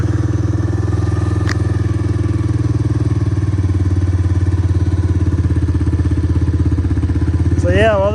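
A 1985 Honda Big Red three-wheeler idles steadily while warming up, a loud close engine with an even, rapid putter throughout and a brief rising note near the end.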